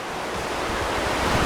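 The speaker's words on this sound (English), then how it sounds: "water in caves can sound like voices" River water flows inside a deep cave, a steady, dense rushing wash with no breaks, filling the space evenly and sounding close and continuous, with no voices present.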